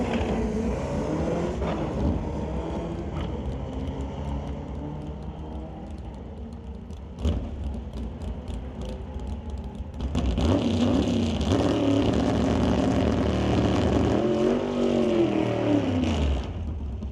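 A drag race car at a West Coast Outlaw Shootout event at Mission Raceway Park idles with a rumbling engine, then launches into a loud, sustained roar down the strip in the second half, with no talk.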